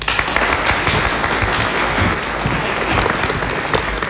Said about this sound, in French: Aussi méritent-elles d'être vivement applaudies.